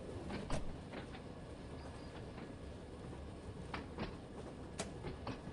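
A train approaching in the video game Train Sim World 2, with a steady broadband rumble and scattered sharp clicks of wheels over rail joints, moderate and unchanging, with no voices.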